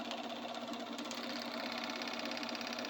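A serger stitches along a curved fabric pocket plate, giving a quiet, rapid mechanical chatter that runs steadily for a few seconds with no talk.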